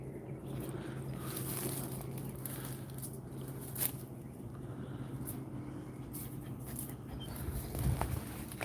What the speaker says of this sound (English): This cute little dog she has.